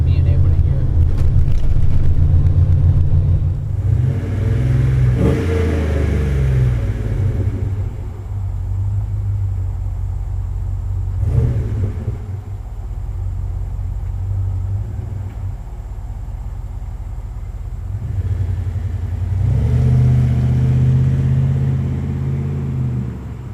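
Deep, throaty idle rumble from the dual exhaust of a Dodge Xplorer XLW 230 conversion van, loud and close, swelling at a few points as the engine revs lightly between steadier stretches.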